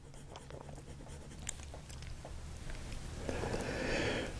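Delta Dolce Vita fountain pen with a wet nib scratching across paper, a faint continuous rustle of strokes that grows slightly louder toward the end, with no talk over it.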